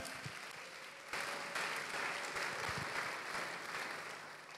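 A church congregation at a Sunday service applauds together, a dense, steady clapping that swells after the first second and holds on fairly faintly at a distance.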